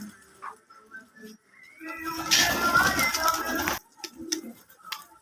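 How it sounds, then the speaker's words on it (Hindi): Pigeons in a village coo softly in short calls, with a louder burst of fluttering or rustling in the middle and faint voices around. "ऐसे माशाल्लाह खूबसूरत में कबूतर है"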